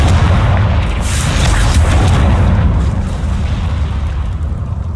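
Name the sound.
Confringo spell explosion in a video game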